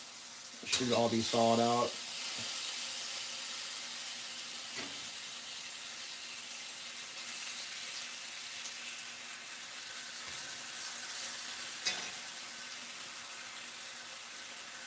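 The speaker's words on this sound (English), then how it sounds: "Alright, I think I can get all this in the pan now." Bacon strips hiss and sizzle steadily in a pan for a breakfast fry-up, a broad constant crackle with a few clinks of a fork, and a brief spoken remark near the start.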